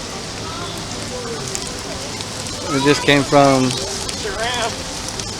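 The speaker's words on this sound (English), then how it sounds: "And it started raining like crazy." Rain patters steadily on a street as a constant hiss, with people talking over it partway through.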